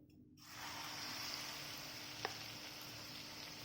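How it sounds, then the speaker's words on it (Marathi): Batter for coriander vadi hits sesame seeds in a little hot oil in a pan, starting with a sudden sizzle that settles into a steady, even frying hiss, close and alone. "तीळ टाकले की लगेच आपण हे बॅटर जे केलेलं आहे ना ते ह्याच्यावरती ओतून घ्यायचे"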